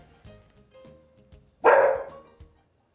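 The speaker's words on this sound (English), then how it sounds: "That's the dog." A dog gives a single loud, close bark partway through, standing out sharply over quiet background rustling.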